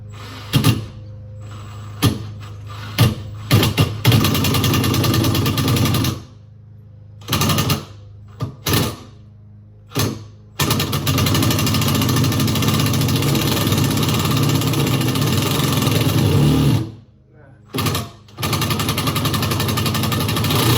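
A power drill driving a big bit into large screws on a construction job, whirring loudly in long sustained bursts broken by short pauses and several brief stop-start pulses.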